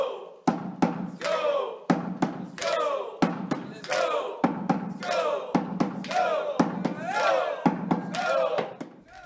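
Minnesota Vikings fans perform the Skol chant: a deep booming thud followed by a unison crowd shout, repeated in a slow, regular rhythm about nine times, loud and echoing.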